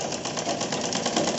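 A sewing machine stitches along the curve of a pant in a quick, steady run of rapid mechanical clatter, close and loud with no talking.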